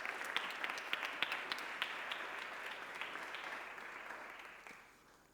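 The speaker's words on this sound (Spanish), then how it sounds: "les vamos a pedir un aplauso para todos ellos" An audience at a corporate event on brand purpose applauds, with sharp individual claps standing out over a steady wash of clapping that fades away near the end after about five seconds.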